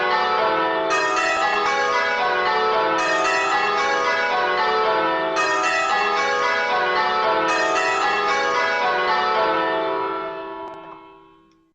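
Church bells change ringing, with a row of bells struck in steady sequence as two bells, the third and sixth, swap places; loud, resonant, ringing continuously with overlapping decay, fading out at the end.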